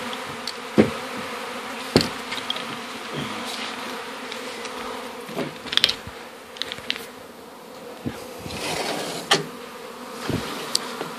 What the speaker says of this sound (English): Still quite a big conflux of bees from the big hive over to the bait hive.